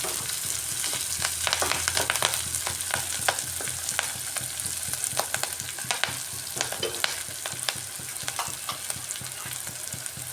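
Spring onions frying in a pan give a steady, dense sizzle with frequent crackles and occasional stirring clicks. The sound is close and continuous throughout, with no talking.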